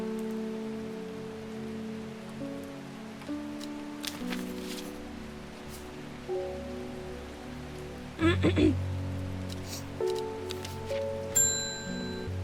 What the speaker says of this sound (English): Does it ever stop raining in Undermere?